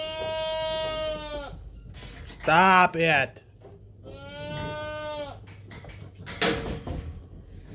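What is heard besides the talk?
goats bleating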